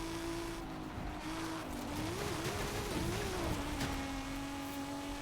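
A tuned Volvo screams along at high speed in the racing game Forza Horizon 5, its engine holding a steady, droning pitch that wavers slightly as the car pushes toward top speed, with a faint hiss of tires beneath.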